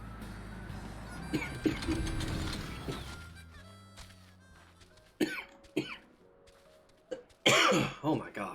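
A streamer playing a Final Fantasy XIV-style MMO coughs in several sharp, loud bursts, the later fits louder and clustered together, over quiet game music and mechanical interface sounds.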